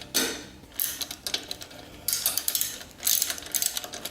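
A ratchet bolts a fork slider cover onto a motorcycle fork, giving close, quick clicking bursts in three short runs separated by brief pauses.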